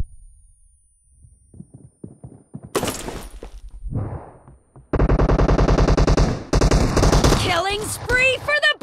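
Gunfire in PUBG Mobile team deathmatch gameplay: scattered single shots, then dense rapid automatic bursts that grow loud and sustained, with brief game voice callouts mixed in.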